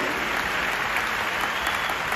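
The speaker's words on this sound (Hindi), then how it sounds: "मैं चाहता हूं एक पूरे दिल से उनके लिए ताली होनी चाहिए" Audience applause for the company chairmen at a business stage event, dense continuous clapping from a large crowd, loud and sustained throughout.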